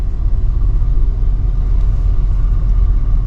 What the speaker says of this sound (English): The car's just wheeling itself down the hill.